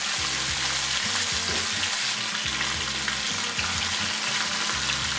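Salmon pieces frying in a pan, giving a loud, constant, close sizzle with a steady low mechanical hum running underneath, left undisturbed with no stirring or voices.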